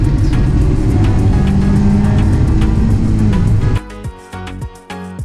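A boosted R18 on a lap at Willow Springs drones loud and steady, its engine note holding under load before dropping off into sharper, broken bursts of revving near the end.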